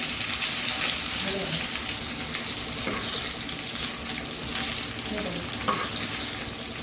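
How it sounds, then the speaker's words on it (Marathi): Vegetables roast in a pan for a rustic village-style chicken fry, a steady loud sizzle with occasional stirring scrapes and clinks running throughout, no talking. "आता ही इकडची भाजी भाजायची."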